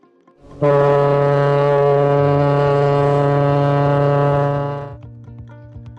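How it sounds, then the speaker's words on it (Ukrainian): A ship's horn sounds a single long, deep, loud blast for about four seconds, then fades, played as a sound to guess in a children's listening game. "Це корабель."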